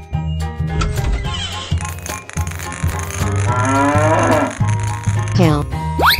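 A cow moos loudly and close in a long, drawn-out low call with rising and falling pitch, accompanied by music and ending in a higher bleating tone.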